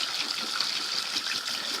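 Cold tap water, under 5 degrees, runs steadily over blood-stained cloth during a rinse, giving a continuous close splashing gush at even level with no talk.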